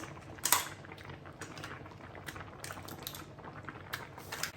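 Rice for Spanish paella boils in a pan, a close, continuous crackling bubble with a few louder pops, no voices.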